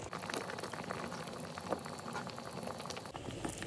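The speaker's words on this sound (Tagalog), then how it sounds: "kumukulo na" Chicken masala in a covered pot at a steady rolling boil, close up, with continuous bubbling and popping throughout.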